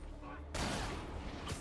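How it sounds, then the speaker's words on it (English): Sniper gunfire rings out in the Marvel's Spider-Man video game, a sudden burst of sharp reports over a convoy scene, moderately loud, with game ambience and a voice underneath. "Snipers are opening up on the convoy"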